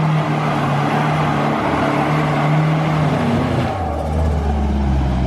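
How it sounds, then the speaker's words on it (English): Honda Civic doing a burnout, its engine droning loudly and steadily close by, with the pitch dropping and the tone changing partway through as the revs shift, no talk heard. "he decided to go let his anger out in a burnout"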